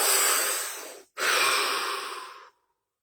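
Two deep breaths are taken close to the mic, a long airy inhale followed after a brief pause by a long exhale, ending in silence.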